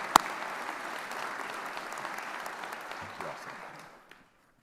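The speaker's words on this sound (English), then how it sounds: "can we please have another round of applause for these three fine people?" Applause from the audience at a business college dedication ceremony, a steady broad wash of many clapping hands lasting about four seconds before fading out, with a sharp knock near the start.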